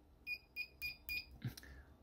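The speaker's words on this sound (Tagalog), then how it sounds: "ito meron siyang special functions, which is buzzer" An analog multimeter's continuity buzzer gives four short, evenly spaced beeps close by, then a brief clack, during a test of a cable with no power.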